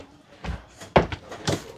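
A flip-up storage bench lid in a 2024 Alliance Paradigm 375RD fifth-wheel RV thumps shut, with a couple of dull wooden knocks and one sharper closing bang close by.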